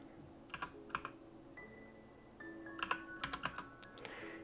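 Keys clatter on a computer keyboard in short bursts of quick clicks separated by pauses, fairly close and moderately quiet, while settings for Alice: Madness Returns are edited on a PC; no one talks.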